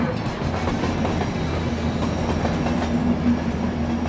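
A steady, rumbling train roar fills the clip as a train leaves the platform, a continuous close drone with faint rhythmic clatter and a thin sustained whine, no voices.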